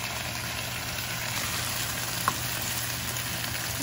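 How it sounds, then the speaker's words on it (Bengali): Potatoes frying in a pan alongside carrots and chillies give off a steady, even sizzle that holds at one level throughout, close by, with no one speaking. "এখন একটু ভাজা ভাজা হবে আলুটা"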